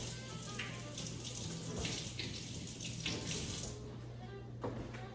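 Cold tap water runs into a kitchen sink while onions are rinsed, a steady splashing hiss with a few brief clatters near the end.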